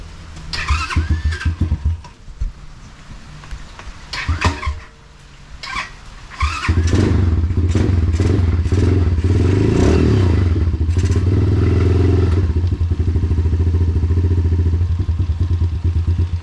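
A small engine, likely a motorcycle or similar machine out of neutral, clatters and cranks, then catches around midway and settles into a loud, steady rumbling idle close by.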